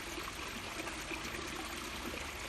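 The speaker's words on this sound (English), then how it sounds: "This is pretty river." Continuous rushing of river water flows steadily and close, a dense even babble with no pauses and no voices.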